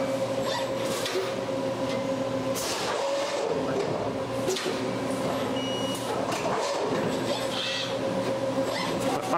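An AMADA EGB6013ARce press brake handles and clamps sheet metal, producing continuous industrial machine hum with steady tonal whines. Intermittent clanks, hisses and mechanical movements rise throughout, with no talking.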